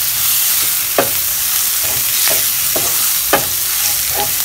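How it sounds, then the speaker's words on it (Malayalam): Egg biryani masala being stirred in a pan with coriander and mint leaves, a steady sizzle under repeated scraping strokes of the spoon, close and fairly loud. "കുറച്ച് മല്ലിയില, കുറച്ച് പുതിന ഇല, ഇതെല്ലാം കൂടെ നന്നായി മിക്സ് ചെയ്ത് കൊടുക്കാം"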